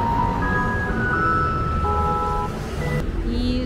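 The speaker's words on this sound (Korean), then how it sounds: "왜 이렇게 쓰레기차에서 아름다운 소리가 나?" A garbage truck plays a tinkling electronic melody on a street in Taiwan, moderately distant, with single sustained notes over steady traffic rumble.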